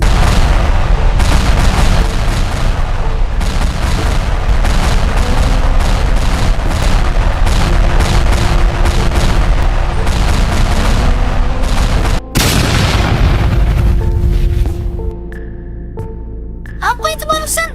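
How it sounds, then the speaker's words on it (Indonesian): Rocket-jump explosions set off by a police team in the Sakura School Simulator game: a dense, loud, continuous barrage of booms and blasts, then an abrupt cut to quieter game sounds with soft tones. "Jangan-jangan itu suara roket loncat dari tim polisi."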